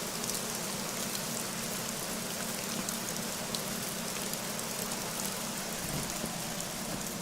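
Constant rainfall fills the Hirschfelden map of the hunting game Hunter Call of the Wild, a dense uniform hiss that runs evenly throughout with no talking over it.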